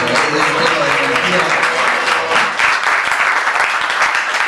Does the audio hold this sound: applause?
yes